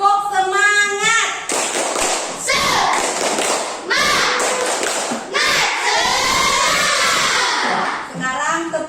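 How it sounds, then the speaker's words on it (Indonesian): Schoolchildren in a Grade 5 Indonesian classroom perform the tepuk semangat clapping chant, loud rhythmic claps and thumps mixed with shouted chanting voices, with an adult voice at the start and end. "Kita mulai dari tepuk semangat ya."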